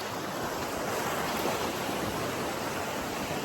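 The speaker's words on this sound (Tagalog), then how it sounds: "Tsaka hindi ganun kalalakas yung alon niya." Gentle ocean waves at a swimmable beach wash in a continuous, broad rushing hiss, steady and fairly loud, with wind mixed in and no voices.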